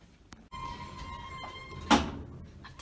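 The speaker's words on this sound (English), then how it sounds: "Doors opening." Hospital lift doors slide open with a close mechanical rumble. A lift chime tone sounds, followed by a sharp clunk near the end of the movement.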